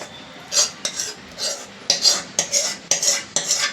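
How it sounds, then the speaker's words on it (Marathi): A spoon stirs a hot wheat-flour ladoo mixture in a pot, with repeated scraping strokes in an uneven rhythm, close and clear with no talk. "आता हे जरा गरम आहे म्हणून मी चमच्यानेच ढवळते आहे."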